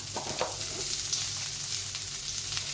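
Food sizzles in a pan with just a couple of small drops of oil for an Egyptian mixed vegetable tray, a continuous close frying hiss with faint crackles and no talking.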